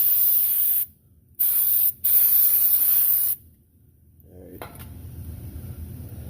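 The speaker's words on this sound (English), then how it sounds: "There's some degreaser here." Aerosol degreaser sprayed on the rear wheel hub of a 2004 Chevrolet Silverado during a wheel bearing job, in three loud hissing bursts separated by short pauses, then a quieter clunk and low background noise.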